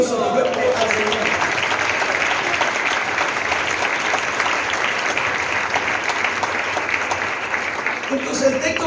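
A church congregation claps loudly and steadily in sustained applause for the Lord, with voices faintly mixed in throughout.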